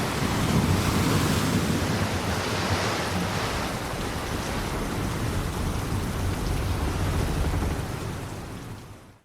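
A stormy sea in the pirate video game Sea of Thieves: a steady, loud roar of crashing waves mixed with rain and gusting wind. It fills the whole stretch with no talking.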